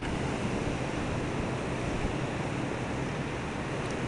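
Steady, rushing surf rolls in continuously at a beach in Baler, Aurora, a dense broadband wash of waves mixed with wind buffeting the microphone, with no voices.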